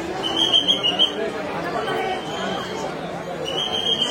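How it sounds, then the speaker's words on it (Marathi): Busy crowd chatter at the crowded Tuljapur temple in the morning, a dense murmur of many voices close around, with a speaker talking over it throughout. "फुल गर्दी आहे"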